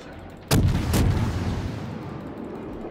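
Two loud, close gunshots boom in a shooter video game, the second following half a second after the first, with a reverberant tail fading into background game noise.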